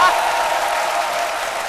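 Studio audience applause on a French midday TV show for a guest turning 70: a brief, continuous wash of many hands clapping together, loud and even from start to finish.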